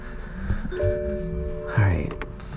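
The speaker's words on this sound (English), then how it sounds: "BMW chime." A 2022 Toyota Supra, stock outside apart from carbon fiber badges and a tow hook, gives the BMW-style startup chime: a brief, soft electronic tone over cabin hum while a person talks.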